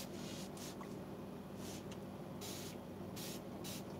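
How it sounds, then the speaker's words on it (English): A hand mister sprays into the recessed areas of kitchen cabinets during a distressed mixed-media finish, giving several short, soft spritzing bursts in a quiet room. "I'm going to take my mister again and spray all in those recess areas"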